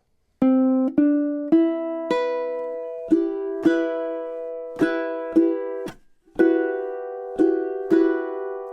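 A ukulele plays about a dozen bright strummed chords, each ringing briefly before the next, at a moderate steady pace, alone and close.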